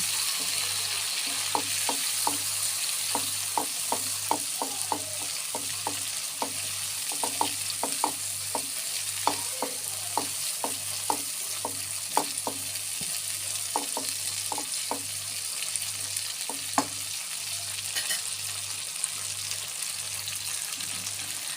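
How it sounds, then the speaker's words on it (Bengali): Spice paste frying in a pan with a little coconut milk for a fig curry, a continuous hiss under rapid, rhythmic scraping strokes of a spatula, close by, with a low steady hum beneath and no voices. "আমি অল্প একটু নারকেলের দুধ দিয়ে মশলাটা আরও ভালো করে কষিয়ে নিচ্ছি"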